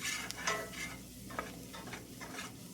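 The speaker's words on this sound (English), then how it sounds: "So we're going to stir this around and allow it to cook for a minute or two." Flour is stirred and scraped around a hot skillet as it browns for onion gravy, giving close, soft scraping strokes over a faint steady sizzle, with no talking.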